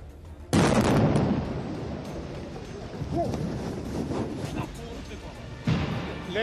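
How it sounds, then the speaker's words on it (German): Violent detonation at an embassy building during a hostage siege in Stockholm, a sudden loud blast followed by a rumbling wind-buffeted roar and a second burst near the end, with people speaking amid the noise. "Alldeles nyss hördes en våldsam detonation"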